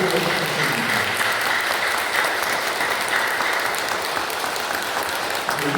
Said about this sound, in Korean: 네, 힘찬 박수